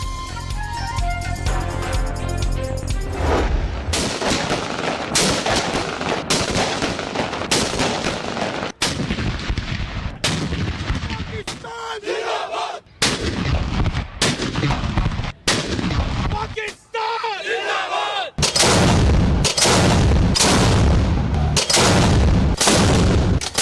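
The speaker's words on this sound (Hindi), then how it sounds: "इस्लामाबाद में 31 और सूबाई दारुल हुकूमतों में 21-21 तोपों की सलामी।" Ceremonial cannon salute for Pakistan Day, with 31 guns fired in Islamabad and 21 in provincial capitals. Loud booming reports repeat in quick succession with brief gaps, following a short musical opening.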